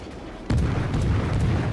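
Warship main guns firing in the naval game World of Warships, a sudden heavy boom followed by a rumbling, sustained roar with smaller bursts, loud and alone.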